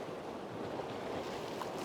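A big sea wave surges against wet coastal steps, a broad rushing wash of water mixed with wind noise, steady and fairly faint over a brief moment with no speech.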